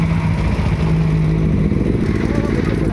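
Superbike engines, a BMW S1000RR and a Benelli 600i, rumble steadily up close with a low throbbing idle and slight revving, continuous throughout, with voices talking over them.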